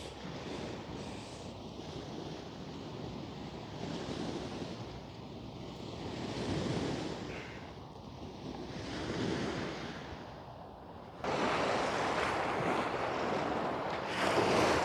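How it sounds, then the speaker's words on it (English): Ocean surf washing onto a rocky beach at sunrise, a steady broadband roar that swells and ebbs in slow surges, with one louder wave breaking near the end and some wind buffeting the microphone. "coming down to the beach, I love the sound of it"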